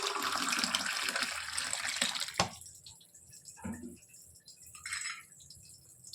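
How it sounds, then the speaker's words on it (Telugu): Water is poured into a bowl of upma semolina and curd batter for dosa, a steady close splashing stream for about two seconds that stops abruptly, followed by faint stirring and small liquid sounds. "కొన్ని వాటర్ వేసుకుంటూ మంచిగా ఉండలు లేకుండా కలుపుకోవాలి"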